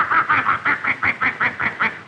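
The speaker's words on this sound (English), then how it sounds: "The geese flapped their wings angrily, a sign that something was wrong." Geese flap their wings and honk rapidly and repeatedly, about ten nasal calls in a steady rhythm, loud and close.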